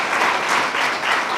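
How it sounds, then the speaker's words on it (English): An audience claps at a formal judiciary talk event, a steady, dense wash of applause from a full room filling the whole short stretch. "Round of applause for Principal Loretti"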